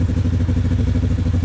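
A 250cc supermotard motorcycle engine running at idle, a loud close steady thumping drone with a regular low pulse throughout.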